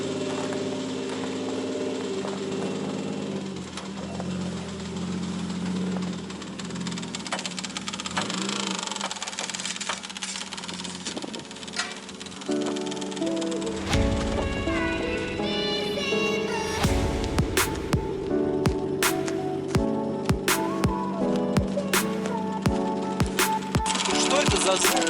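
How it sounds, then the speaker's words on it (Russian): Toyota 1JZ-GTE engine idling with a hard knock, a steady close mechanical rumble with rapid metallic tapping and clicking, and someone speaking over it at times. "Что-то жестко стучит. Что-то застучало, когда завели."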